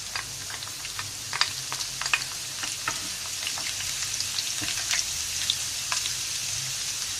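Chopped garlic fries in oil that has cooled a little in a pan, a soft steady sizzle with scattered small crackles and pops, faint and close, as radish bhujia is cooked.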